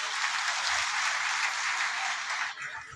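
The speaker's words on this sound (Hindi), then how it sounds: "ताली बजाओ जोर से।" A seated crowd at a Bhagwat Saptah religious discourse in New Delhi breaks into loud, dense applause, a continuous wash of many hands clapping that fades slightly near the end.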